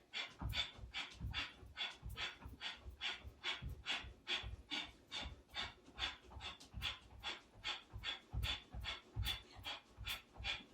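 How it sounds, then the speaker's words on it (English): Breath of fire, the rapid yoga breathing done while running on the spot, comes through as fast rhythmic forceful exhales, about two per second, steady and close but faint. "you can begin with breath of fire"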